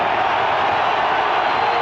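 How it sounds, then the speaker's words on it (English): Steady roar of a large crowd cheering in a college football stadium during a Georgia Tech versus Georgia game, a continuous distant wash of voices with no distinct peaks. "Crowd, who was out of it in the first 30 minutes, is back in it, needless to say."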